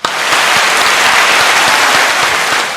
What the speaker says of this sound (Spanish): un aplauso para Jennifer